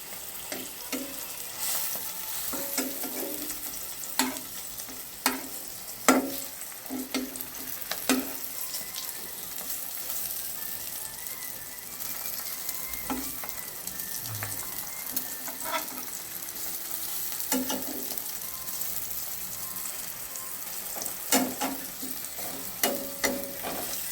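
Pieces of spiny gourd (kankrol) fry in oil with a continuous sizzle while being turned and stirred, close by, with sharp spatula taps and scrapes scattered throughout.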